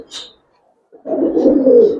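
An old-breed Giribaz pigeon gives a short high chirp, then after a brief silence a loud, close throaty coo lasting about a second.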